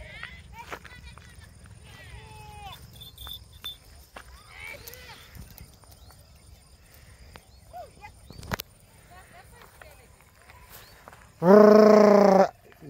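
Farm buffaloes and goats at dusk: quiet rustling and faint calls under a person talking, then a loud, close, drawn-out low bellow rings out near the end.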